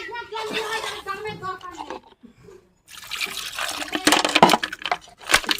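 A mug of water is poured in a rural home, splashing loudly and unevenly after a short stretch of voices and a brief pause.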